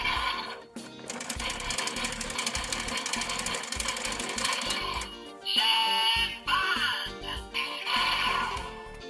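A DX EnyaRideon toy gear cleaner with a Sentai gear loaded plays its electronic sound effect: loud, busy synthesized music and chiming tones with brief gaps and a bright jingle near the end.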